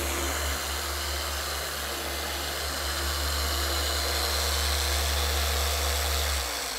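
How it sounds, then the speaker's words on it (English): A Rupes polisher runs steadily on car paint during a one-step polish, a continuous motor drone with a low hum that holds constant speed, close and loud, then cuts off near the end. "it's literally just slowing down our body on how we move that polisher"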